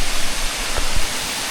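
A waterfall rushes loudly and steadily from close by, a dense broadband roar that fills the whole stretch without a break.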